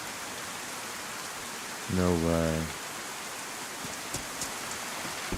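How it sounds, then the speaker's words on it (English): Rain falls as a steady, even hiss that fills the whole stretch, with a few faint drip-like ticks near the end and one short spoken exclamation partway through. "Of course, it's raining."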